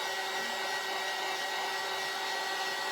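Hair dryer blowing steadily on part of a craft flag, a continuous close whooshing whir with no break.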